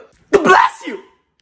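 A single close, loud human sneeze bursts out sharply, then trails off quickly, with no other sound around it.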